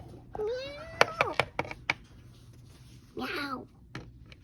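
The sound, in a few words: child imitating a cat meowing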